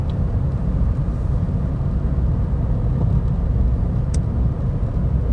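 Toyota car cruising at about 70 mph on cruise control, heard from inside as a loud, constant road and engine roar with no talk.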